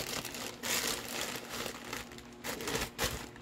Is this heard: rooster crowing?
no